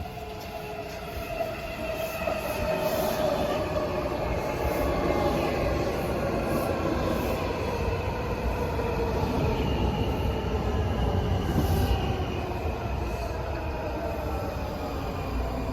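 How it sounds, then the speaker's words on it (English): A Shady Grove-bound Washington Metro Breda railcar train arrives at Takoma station, a steady rising rumble of wheels on rail with faint squeals and clicks, near and continuous, no voices. "Shady Grove bound train of Breda is arriving Takoma."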